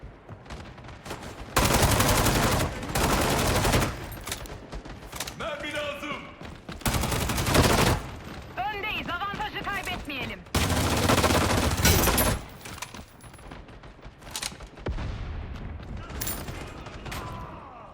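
P90 gunfire in the online shooter game Battle Teams 2, loud rapid automatic bursts in several long strings separated by short gaps, with other game sounds and a voice speaking in between.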